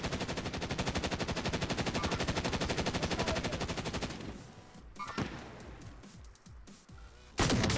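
Call of Duty Warzone LMG fire: a long, fast, sustained automatic burst for about four seconds, then a few scattered shots and quieter action, ending with another short loud burst.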